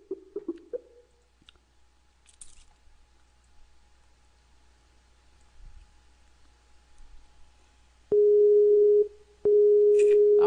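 Telephone ringback tone on a call that goes unanswered: a few clicks at the start, a near-silent wait, then two long, steady, loud tones close together at the end.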